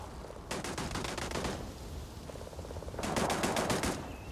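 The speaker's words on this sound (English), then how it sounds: "Definitely a turret." Turret gunfire in Starfield: two long rapid-fire automatic bursts, the first close and sharp, the second heavier and louder after a lull, with steady ambient rumble between them.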